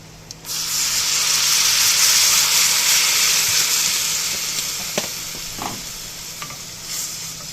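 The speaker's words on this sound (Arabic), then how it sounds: "أول ما الثوم يبدأ يحمر معانا شوية كده هننزل بإيه؟ هطفيه بالخل" Garlic sizzles loudly in a hot pan as vinegar is splashed in, a sudden burst of hissing that stays strong then eases, with a few spoon scrapes and taps of stirring.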